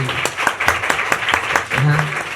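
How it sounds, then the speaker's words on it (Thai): Audience applause for the director-general at a Thai DSI press event, rhythmic loud claps near the microphone with a voice speaking over them. "ขอเสียงปรบมือดังๆให้ท่านอธิบดี"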